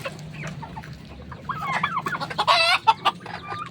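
Imported fighting roosters and hens cluck and squawk up close in a farmyard coop, a busy overlapping run of calls that swells into a loud burst of squawks near the end.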